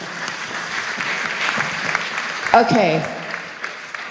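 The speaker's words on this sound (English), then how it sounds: "Give them a round of applause" Audience at a care-experience conference applauding a group, steady scattered clapping throughout with a voice speaking briefly over it midway.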